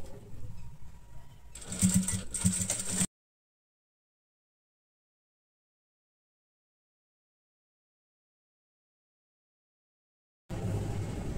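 A sewing machine runs in short, quiet bursts of rapid mechanical whirring while stitching a deep-neck princess-cut blouse, with brief pauses and then a long silence before it starts again.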